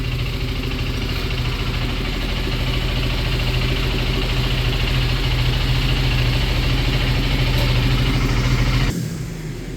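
A KTM Duke 390 motorcycle engine running steadily during throttle body cleaning at a service, a loud close idle drone holding even before cutting off abruptly near the end.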